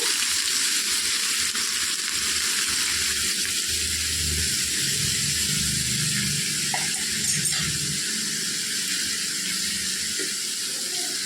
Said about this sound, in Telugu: ప్యాన్ పెట్టుకొని అందులో ఆయిల్ వేసుకోవాలి డీప్ ఫ్రై చేసుకోవటానికి ఆయిల్ వేడెక్కనిచ్చి ఇలా వేసేసుకోవాలండి